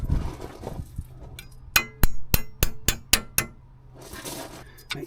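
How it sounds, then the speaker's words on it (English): A small hammer taps a front wheel bearing part on a Mercedes 410D, about eight sharp metallic strikes in a steady rhythm, close and loud in a quiet workshop. "And get your little hammer."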